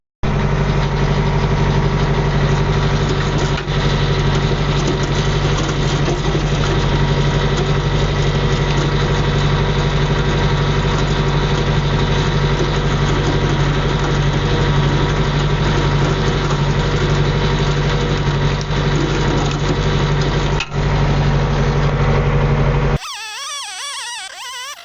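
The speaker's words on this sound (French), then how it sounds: "on va chercher le tracteur, on le ramène par là" A tractor engine idles steadily and loudly nearby at a logging site, a continuous mid-pitched rumble with constant vibration, ending abruptly near the close.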